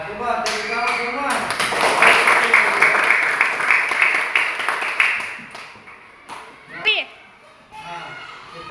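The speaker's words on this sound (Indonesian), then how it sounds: "coba tepuk tangan semua." A classroom of children clap their hands together in a dense, loud burst lasting several seconds, mixed with children's chatter and voices, before it fades into scattered talk.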